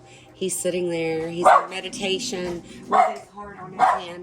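Dogs bark intermittently indoors, a few sharp barks and yips breaking through a person talking steadily over them.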